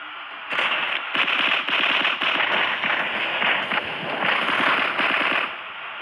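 Rapid automatic gunfire in the mobile shooting game Frag rattles on almost nonstop for several seconds, a loud crackling stream of shots with brief gaps between bursts, followed by sudden quiet.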